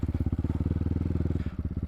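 An enduro motorcycle on a trail with logs throbs steadily at low revs close by, its engine pulsing in a fast, even rhythm throughout with no talk.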